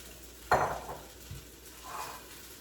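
A spoon scrapes and clinks against a pan while eggs are stirred into shrimp fried rice, a sharp metallic knock followed by a softer tap and a brief scraping stir, fairly quiet and close.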